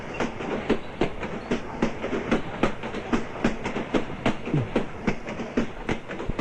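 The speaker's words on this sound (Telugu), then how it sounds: "ఈ రోజు ట్రైన్ లో వస్తానండి" A train runs along rails in a Telugu film scene, its wheels beating a steady, rhythmic clickety-clack at close range with no talk over it.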